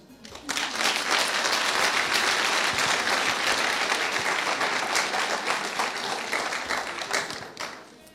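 A hall of students at a 2018 UCAO sponsorship forum breaks into loud, sustained clapping that swells quickly, holds for several seconds, then fades out.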